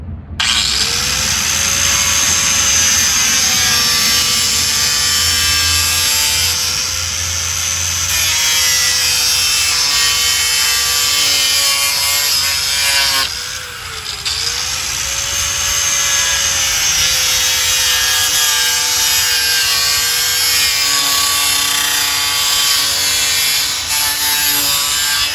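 A power saw cuts a radiator shroud resting on a sawhorse, a loud continuous whine with a steady pitch that sags briefly mid-cut before recovering, running close and unbroken for the whole stretch.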